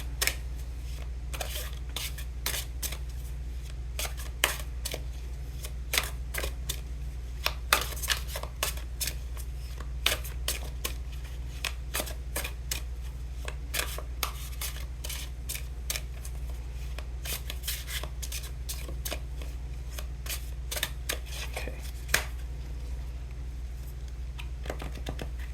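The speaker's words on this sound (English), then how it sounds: "We'll start with drawing 2 cards from the Thoth Tarot deck." Thoth Tarot cards shuffled and drawn, a steady run of crisp papery flicks and riffling snaps, close and fairly quiet, with a low hum underneath and no talking.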